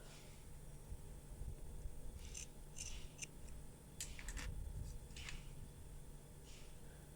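Scissors cutting through denim jeans fabric in short bursts of crisp snipping and scraping, several separate cuts close up against a quiet background hum.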